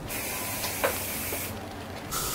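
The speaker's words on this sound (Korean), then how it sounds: "이 밑에 머리는 스프레이를 뿌려서" Hairspray is sprayed onto short hair at the nape during an updo, a soft steady hiss running through a brief quiet stretch.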